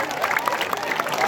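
Audience applause at a lively gathering, a dense close patter of many hands clapping steadily with no pause.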